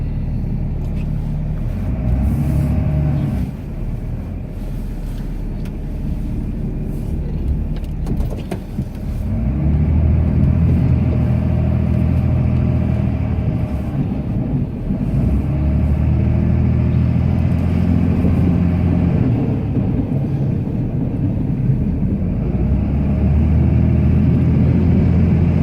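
A Cummins Ram truck plowing snow gives a loud, continuous low engine drone that swells and eases in waves as it pushes and backs up, with no talk.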